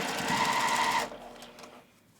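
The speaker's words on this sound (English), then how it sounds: "When you're sewing the rows together, set your machine to have your needle down" A sewing machine stitching quilt rows together with sashing, a rapid close motor whir with needle chatter for about a second that then stops, leaving quiet handling noise.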